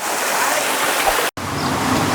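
A waterfall plunges from above into deep green water at Ban Sing Tham in Chiang Kham, a loud, steady, full-bodied roar broken only by a split-second dropout partway through.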